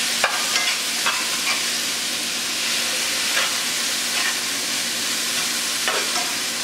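Garlic frying and sizzling in a pan for a cottage or shepherd's pie, with a steady close hiss and a few scraping stirs of a utensil.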